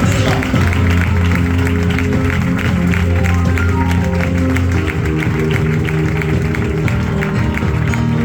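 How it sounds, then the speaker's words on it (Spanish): A church congregation applauds loudly and steadily for about eight seconds, dense clapping spread over sustained musical tones. "Dale un fuerte aplauso a Dios."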